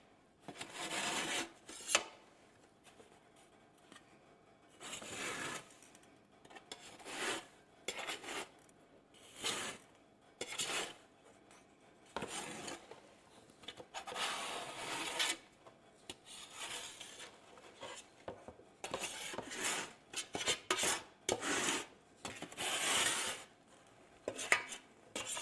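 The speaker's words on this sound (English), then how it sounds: "Just gonna use my big funnel, my bench scraper, and we're just gonna get it right into the jar." Freeze-dried food scraped with a bench scraper through a big funnel into a jar, giving repeated dry scraping, rattling and clinking bursts at close range with short pauses between strokes, no talking.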